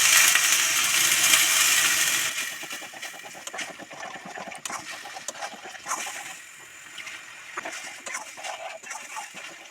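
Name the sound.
okra curry gravy boiling in pan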